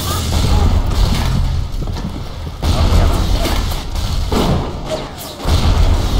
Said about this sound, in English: My own rocket killed me!